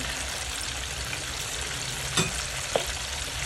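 Chicken pieces fry in hot oil for kanto-style fried chicken, giving a steady close sizzle with a couple of brief pops and clinks.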